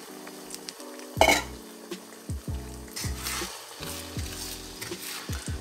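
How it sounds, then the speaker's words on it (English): Beaten egg scrambles in a hot pan for low-carb keto pad thai, with a spatula repeatedly scraping and knocking the pan bottom over a constant close sizzle, no voices. "Then we'll add some beaten egg to it and make a scrambled."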